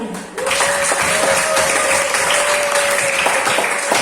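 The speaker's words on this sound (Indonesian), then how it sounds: "kita beri aplaus untuk kelompok yang sudah presentasi dan teman kalian yang sudah menjawab dari awal tadi" Classroom audience clapping for a student group after their presentation, a steady dense round of applause starting abruptly and holding loud throughout, with a faint tone running beneath.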